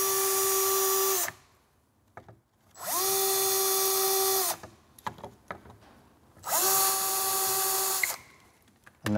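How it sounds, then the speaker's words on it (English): A power drill whirs in three steady bursts of about a second and a half each while drilling into a cabinet base, separated by short pauses with light handling noises. "you need to drill in three positions along for the bottom runner"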